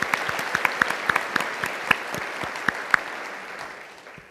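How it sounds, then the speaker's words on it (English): Audience clapping at an award presentation during a conference plenary, moderately loud with distinct individual claps standing out, gradually thinning and fading toward the end. "So please give me a round of applause."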